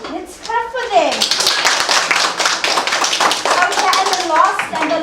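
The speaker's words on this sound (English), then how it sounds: "Let's clap for them." Young children in a first-grade classroom clap together in a quick patter of small hands, close and lively, with children's voices and an adult speaking over and around the clapping.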